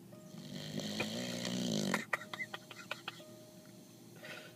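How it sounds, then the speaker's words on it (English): A big mastiff snores nearby with a long, raspy, rumbling breath, then quiet clicks and rustles follow, with a faint voice softly in the background. "Because you're snoring."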